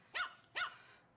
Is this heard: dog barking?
yes